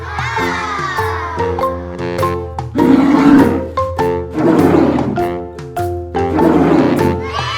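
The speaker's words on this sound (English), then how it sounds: "Polar bear." A polar bear gives loud, repeated roaring growls close by, in several long bursts with a steady tonal backing throughout.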